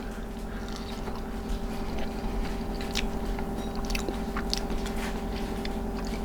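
Close, quiet chewing of Parmesan-crusted potatoes, soft crunches and moist mouth sounds repeating steadily over a faint background hum.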